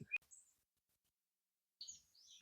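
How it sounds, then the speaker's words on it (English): A few faint bird chirps in a quiet setting, one brief call at the start and a short burst of tweeting near the end. "and the birds sound so pretty."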